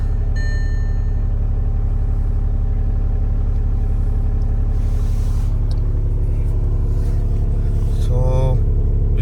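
A Volkswagen TDI diesel car engine idling after a cold start, a steady loud close-up rumble with a regular diesel clatter that holds throughout.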